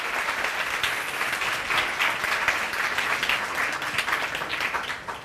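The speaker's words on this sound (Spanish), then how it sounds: "pedirle a la audiencia un aplauso para la bienvenida" An audience at a university research forum in Celaya gives steady welcoming applause, dense and sustained throughout with no pauses.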